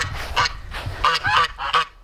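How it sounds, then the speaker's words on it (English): Two geese kept in a pen with chickens, honking close and loud in a quick series of about half a dozen harsh calls, with no talk over them. "We have geese, 2 geese."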